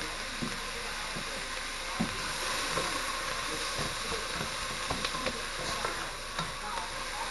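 Meat and vegetables for Philly cheesesteak–style sloppy joes fry in a pan with butter. A dense, even sizzle and hiss continue throughout, broken by faint scattered clicks and stirring scrapes.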